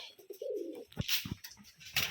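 A short, soft coo from a Rajshahi gerebaj pigeon on a farm, then a few faint taps and rustles, all quiet and brief.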